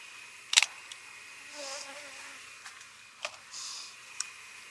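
Honeybees at a hive during a fall inspection in Jacksonville, Florida, buzz faintly in soft swelling patches, broken by a few sharp clicks and taps from the frames, with a thin steady whine underneath.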